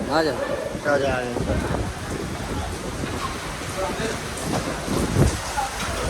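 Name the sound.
heavy rain falling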